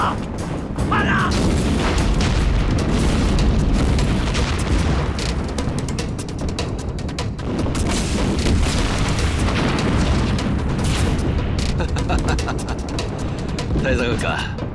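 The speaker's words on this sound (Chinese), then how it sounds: "这是小鬼子轰炸，一会儿就过了" In a war-drama scene, aerial bombing rolls on as continuous heavy booms and blasts that stay loud and dense throughout, with shouting voices mixed beneath the barrage.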